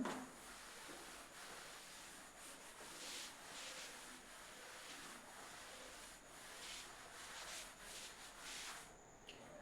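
Part of a drawing on a board is rubbed out, a continuous faint scratchy rubbing with rhythmic strokes, no talking.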